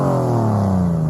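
Porsche 911 with a Super Cup glass pack exhaust, one muffler on each side, revving loud and close in a steady, slightly falling engine tone.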